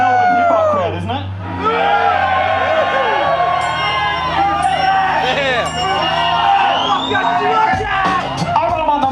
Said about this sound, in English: This is a Melbourne hip-hop crowd, isn't it?